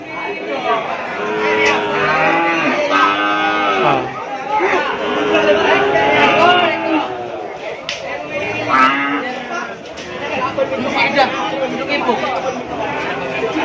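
Cattle at a livestock market in Indonesia moo repeatedly, several drawn-out lowing calls overlapping, while people chatter and talk nearby in a busy crowd.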